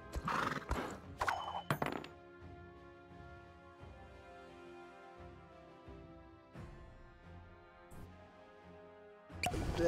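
Roach, the horse in the video game The Witcher 3, gives a loud whinny, then hooves clip-clop beneath a sustained musical drone, with a second burst of neighing near the end.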